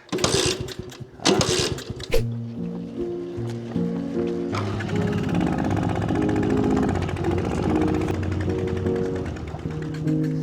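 A motorcycle engine, apparently flooded, gives a few rough sputtering bursts on starting attempts, then catches and runs loudly with a buzzing idle and shifting revs.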